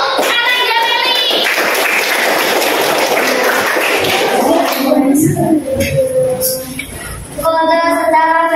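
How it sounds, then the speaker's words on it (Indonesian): A room full of people at an academic supervision coaching session in Indonesia claps together in a dense, sustained burst that fades after a few seconds, followed by scattered voices. "Tepuk tangan untuk Ananda Meli."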